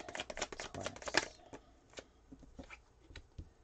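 Tarot cards being shuffled by hand, a run of quick crisp riffling flicks and slaps up close, thinning out into a few scattered soft card taps.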